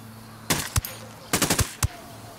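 Submachine gun fire from the video game Ghost Recon Wildlands: two quick bursts of rapid shots, each ending in a sharp single crack, loud and close with no talk.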